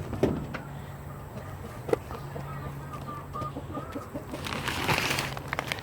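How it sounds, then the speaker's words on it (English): Backyard chickens cluck softly nearby, with a short run of rhythmic clucks, a few sharper calls and background rustling, under a rising wash of ambient noise. "And here's another chicken right there."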